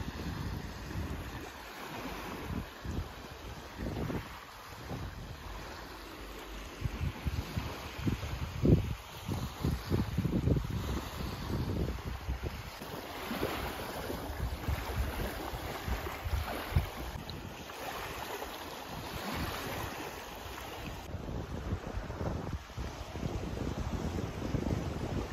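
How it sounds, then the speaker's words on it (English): Gusty wind blowing by a lake, a steady rushing noise with buffeting on the microphone and faint lapping water underneath, with no talking. "though it is a little bit windy by the lake"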